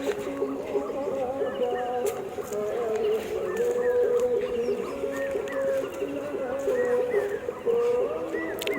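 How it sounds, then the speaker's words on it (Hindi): Scattered bird chirps and calls, with a peacock calling ahead, sound from different directions over steady background music and low murmuring voices, moderately close and continuous. "इधर उधर चिड़ियों की आवाज़।"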